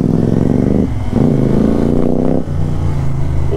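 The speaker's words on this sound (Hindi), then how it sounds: "लाउड एग्जॉस्ट का बस यही है भैया ने लगाया हुआ इस कॉन्टिनेंटल जीटी में" Royal Enfield Continental GT motorcycle with a loud aftermarket exhaust, booming close up as it revs hard, with short dips between throttle pulls and a continuous deep rumble.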